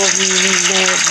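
Water gushes steadily from a tap while a kitchen water dispenser is cleaned, a close, continuous splashing rush with a voice speaking over it.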